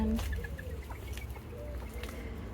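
Chickens cluck softly on a hot, misty afternoon, with a few short calls over a steady low background hum.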